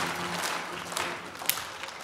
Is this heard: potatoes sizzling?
no